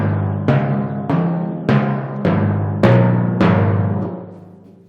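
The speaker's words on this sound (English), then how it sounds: "people play them with a very thuddy, downstroked sound" Timpani struck with heavy downstrokes give six evenly spaced, loud booming quarter notes, each a thuddy, tubby hit with a short ringing decay that overlaps the next, the last left to fade.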